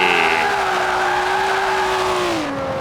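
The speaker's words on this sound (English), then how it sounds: "Okay, so I'll try another e-brake drift here." Tires squeal in a long, loud skid as a stock 1967 No. 24 Ferrari 330 in Forza Horizon 4 is thrown into an e-brake drift, the screech holding steady over the engine before easing off near the end.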